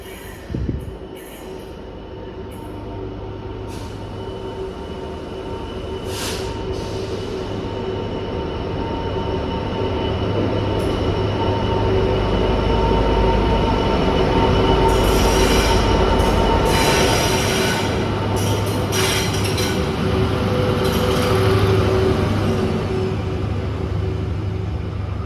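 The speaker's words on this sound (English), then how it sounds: "Here we have a Class 66, it's the Caledonian Sleeper from Inverness to London Euston." A Class 66 diesel locomotive hauls the Caledonian Sleeper from Inverness to London Euston past a station at Aviemore, its deep engine drone building and holding steady as the carriages roll by with wheel and rail noise, with no one talking.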